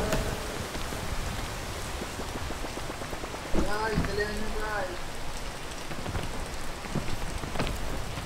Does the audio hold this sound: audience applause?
no